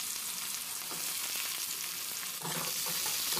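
Chopped onion and whole cumin seeds sizzle loudly in hot oil, and a spoon stirs through them. The frying swells to a harsher burst near the end.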